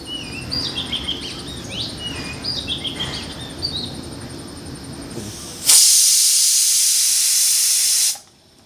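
Faint birdsong chirps over background noise, then a sudden loud hiss of escaping steam from a whistling pressure cooker on a gas stove, lasting a few seconds before cutting off.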